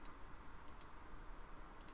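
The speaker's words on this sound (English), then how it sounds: "Yo, I want to search. I'm clicking, y'all." Soft, close computer mouse clicks, a few quick isolated taps against a quiet room hum, with no one speaking.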